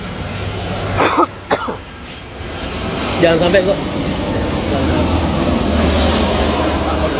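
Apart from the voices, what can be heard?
airplane passing overhead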